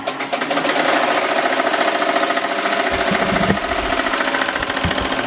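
A Bravo X embroidery machine stitches a design onto textured leather, running as a steady, loud, rapid mechanical chatter with a dense rhythmic needle beat that continues unbroken throughout.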